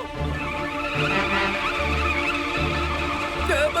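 A cartoon vehicle drives with a steady buzzing engine tone, and short pitched squeals suggest skidding. The sound is loud and continuous, with no talking.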